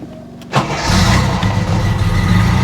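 A classic car engine cranks briefly and then catches, settling into a loud, close, steady idle rumble with no talk over it.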